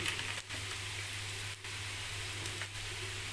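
Lentil paste for a stuffing being sautéed in a pan with salt: a soft, steady sizzle with faint hiss, quiet and continuous, broken by a few brief scraping pauses.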